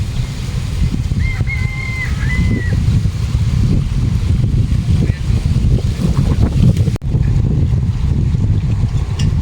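A low motorboat engine putters steadily beneath strong wind buffeting and splashing water, with a brief whistle-like tone early on and voices faintly present.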